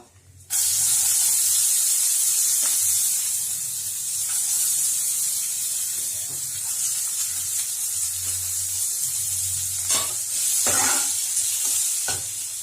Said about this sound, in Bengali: সম্বারটা ভালো করে ফুটলে তার মধ্যে আমি এবার পেঁয়াজগুলো ভেজে নেব।